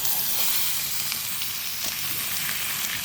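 Noodles for ramen hitting hot oil with frying onions, giving a constant loud crackling sizzle with faint stirring pops throughout and no voices.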